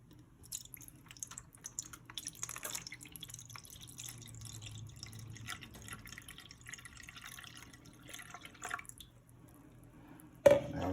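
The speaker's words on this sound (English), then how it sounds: "Okay, so now I'm about to add some water." Water trickles and drips into a pan holding a foil-wrapped stuffed turkey drumstick, soft crinkling and patters at close range, ending in a louder splash.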